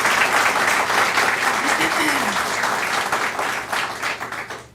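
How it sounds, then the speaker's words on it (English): A crowd applauds, dense clapping filling the room and slowly tapering off toward the end. "Can we have a round of applause for them as well?"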